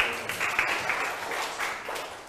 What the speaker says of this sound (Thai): ปรบมือให้เพื่อนด้วยค่ะ